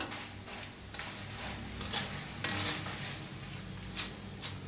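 Maize chivda is dry-roasted in a pan, giving a steady soft rustling and sizzling with occasional light clinks and scrapes of stirring, close up and quiet, with no talking.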